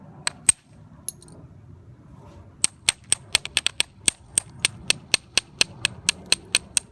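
Sharp clicking taps of a billet striking flint during flintknapping, a few scattered hits and then a steady run of about twenty evenly spaced, close, crisp strikes over a low background hum.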